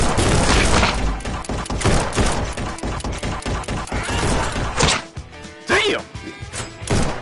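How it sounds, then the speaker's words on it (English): Gunfire fills the VR shooter game Bulletproof VR with dense, loud volleys of shots and impacts, rattling almost continuously before thinning into scattered bursts, with a player's voice exclaiming over the action. "Bullets coming from every direction."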